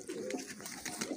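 Sialkoti pigeons give soft, rolling coos close by, several overlapping calls in a continuous murmur with no talking.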